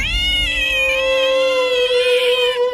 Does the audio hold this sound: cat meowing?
yes